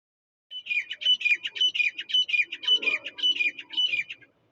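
Repeated high bird calls in a rapid, even rhythm at a bird festival in Tal Chhapar, clear and fairly close against a quiet background with faint murmur below.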